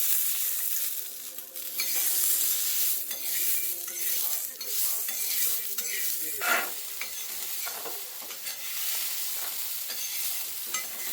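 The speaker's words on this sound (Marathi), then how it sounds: "हे दाणे भाजून तयार झालेले आहेत." Toor beans (pigeon peas) roast in a little oil in a pan, giving a dense, close sizzle with a broad hiss. Stirring scrapes and an occasional clink of utensil on metal run through it, with no speech.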